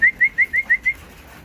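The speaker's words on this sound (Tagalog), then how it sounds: "So yan mga kalapatids" Pigeons in a backyard loft give six short, evenly spaced calls in a quick rhythm, close and clear, followed by quiet.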